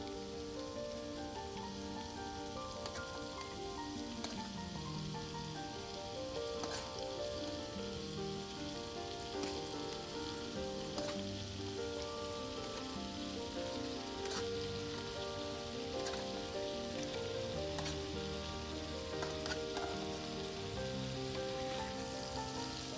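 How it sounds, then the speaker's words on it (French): Goat meat cooks in coconut oil without added water, a faint, steady sizzle and crackle like light rain, with scattered small pops, continuing evenly throughout. "on va bien mélanger, on va le laisser cuire comme ça sans pour autant rajouter de l'eau"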